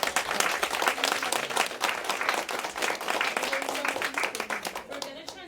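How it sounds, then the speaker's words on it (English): Audience applause at a Girls in Medicine internship graduation: dense, steady clapping from a sizable crowd, loud and continuous for several seconds before thinning out at the end. "So just a round of applause for this."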